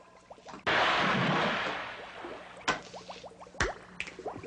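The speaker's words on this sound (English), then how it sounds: "Pour the cookies, pour the berries in the cauldron." Cookies and berries being poured into a cauldron, a sudden wet rushing pour followed by a few sharp splats and squishy drips, close and alone.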